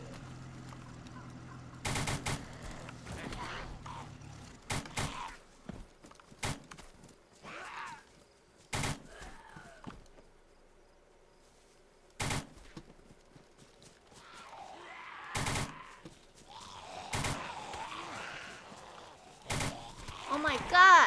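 Gunfire in the survival shooter DayZ on Deer Isle: loud, sharp bursts at irregular intervals, some single and some clustered, with quieter stretches between and brief player chatter in the gaps.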